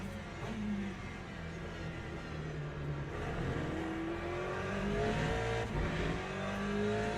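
Corvette race car engine droning and revving steadily on track with a nearby competitor, loud and continuous with rising pitch sweeps through gear changes and no talk.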